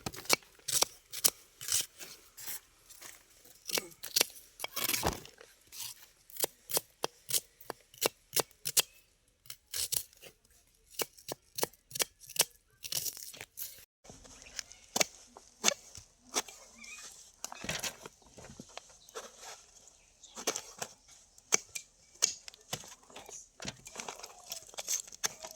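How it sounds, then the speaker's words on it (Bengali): Onions are cut for a Bengali home-cooked meal, giving a long run of crisp, irregular knife strikes and crunches on a board, some in quick bursts and others spaced apart, fairly faint. "পেঁয়াজগুলো আমরা কেটে নেবো সুন্দর করে।"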